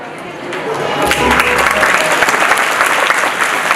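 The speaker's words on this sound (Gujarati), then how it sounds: "તાળીઓની ગૂંજ સાથે આપણે વધાવી લઈએ." Loud audience applause welcoming an honored guest at a Makvana family gathering, swelling in after about a second and continuing as dense, steady clapping to the end.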